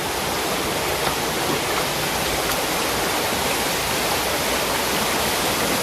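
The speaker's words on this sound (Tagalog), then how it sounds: "Itong sapang maliit na ito papasok." A small creek in the Bicol countryside flows into a river, making a steady, even rush of water with no breaks and no voices.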